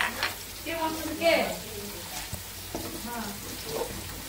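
Onions and spices fry in a little oil, giving a moderate sizzle with intermittent stirring and clatter. Faint voices are heard in the background.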